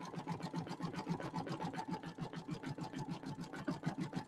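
Home sewing machine running satin stitches for a toadstool bench buddy project, a quiet fast even needle rhythm stitching continuously, alone without talk.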